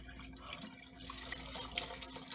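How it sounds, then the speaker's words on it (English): Water pours and splashes steadily as it drains off about two cups of rinsed rice in a pot, a close, continuous trickling wash with no talk. "drain that water off of the rice"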